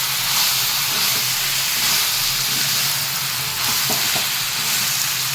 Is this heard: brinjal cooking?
yes